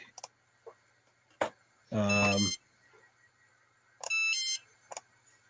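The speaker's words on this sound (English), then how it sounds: "that's you beeping." Short electronic beeps sound twice, a few seconds apart, each a bright pulsing tone over a quiet hum, with soft clicks in between.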